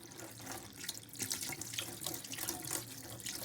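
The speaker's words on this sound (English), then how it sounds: "So what you need to do is just wash them with water." Tap water runs in a steady, full stream over kefir grains as they are washed in a strainer, a close splashing rush without talk.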